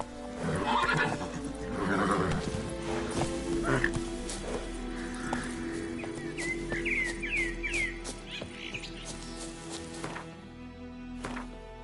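Roach, a horse in The Witcher 3 video game, snorts and whinnies loudly and close over galloping hooves, with faint birdsong chirps in the background and music underneath.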